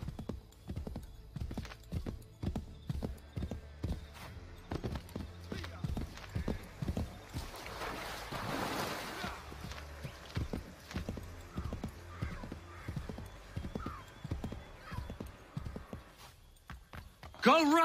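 Rhythmic clip-clop of horse hooves in the video game Assassin's Creed III, steady galloping strides with an occasional whinny, heard under a player's excited talk.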